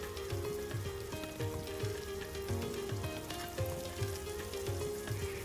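Ground spice paste frying with tomato in a pan for a pabda fish curry, a quiet continuous sizzle with faint crackles and occasional stirring.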